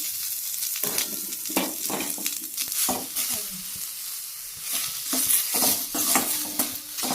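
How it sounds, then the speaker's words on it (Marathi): Chopped onion dry-roasts in a pan for a wedding-style brinjal and potato curry, a loud, close sizzle with repeated scraping stirs of a spatula running steadily throughout and no voices. "एक कांदा घेतलेला आहे, ते पण भाजून घ्यायचा आहे, मी चिरून घेतलेला आहे।"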